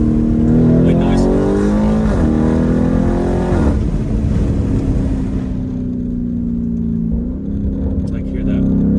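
A Lamborghini Urus with a loud aftermarket exhaust revs and accelerates hard from inside the cabin, engine tone climbing and shifting in steady rising sweeps, loud and close throughout.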